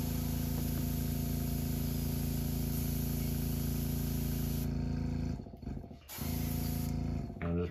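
An airbrush sprays paint onto a custom glide-bait fishing lure, a steady close hiss with a mechanical hum underneath that cuts out briefly near the end before resuming.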